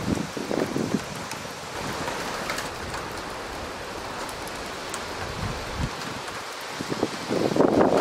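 Wind gusting through pine trees pushes their branches against a metal garage wall, giving a steady rushing, rustling noise with scattered knocks and thumps that rise at the start and the end. No one speaks.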